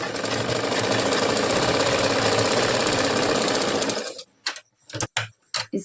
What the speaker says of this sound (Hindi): अब हमें इसमें ऊपर सिलाई चलानी है।